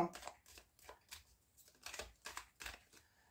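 Tarot cards being shuffled and cut at close range, a rhythmic run of soft riffling flutters and taps under a quiet voice.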